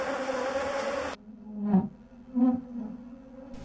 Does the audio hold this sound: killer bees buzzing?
yes